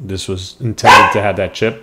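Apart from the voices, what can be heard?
dog barking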